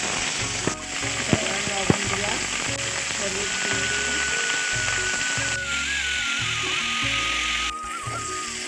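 Carrots and radish fry in oil in a wok, a steady close sizzle running throughout with a few sharp clinks and stirring knocks, and a faint voice now and then.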